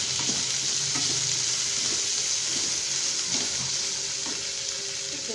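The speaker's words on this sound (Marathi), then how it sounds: "तेलावर असे छान परतून घ्यायचं आहे सगळं. मटार, बटाटा" Peas and potatoes sautéing in hot oil for masale bhaat, a steady close sizzle and fry with occasional soft stirring scrapes, no voices.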